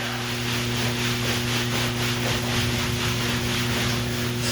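Hands rub steadily front and back around the kneecaps during a qigong self-massage, a soft continuous brushing friction over a low steady hum, with no talking.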